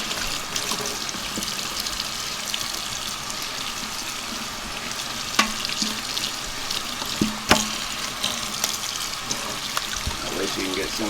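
Warm tap water runs steadily over a tie-dye shirt being rinsed in a sink, with a constant splashing rush and a few louder knocks and splatters as the fabric is handled, while a voice talks.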